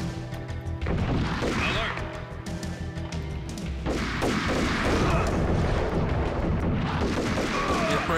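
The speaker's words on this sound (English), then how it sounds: "Just toss out the good old hand grenade." Hand grenade blasts in the shooter game Max Payne, heavy booming explosions and crashing debris layered over continuous game gunfire and music, loud and dense throughout.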